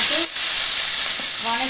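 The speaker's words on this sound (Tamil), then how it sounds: "எண்ணெய் ஊற்றி கடுகு போட்டு வெங்காயம், பூண்டு, தக்காளி எல்லாத்தையும் போட்டு" Mustard seeds, onion, garlic and tomato fry in hot oil for a plantain stir-fry, a loud continuous sizzle with brief stirring noises and faint voice-like tones near the start and end.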